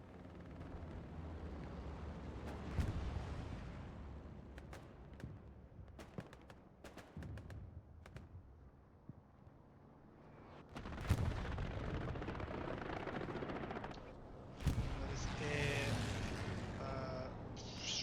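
Strafing-run gunfire in the video game Hell Let Loose, with heavy bursts and booming impacts crackling in waves, distant rumbles between them and a loud, dense barrage near the end.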